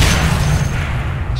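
Shockwave ability blast in Dota IMBA, a loud, sustained booming rumble filling the whole moment, with no talking.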